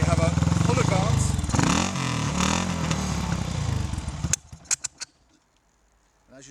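A BSA Gold Star motorcycle engine runs loudly with a rapid, uneven single-cylinder beat, then cuts out and stalls, leaving a few fading coughs and near silence.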